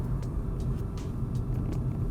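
A 2019 Volkswagen Polo GTI engine hums low and steady from inside the cabin while driving, with a constant rumble of road noise.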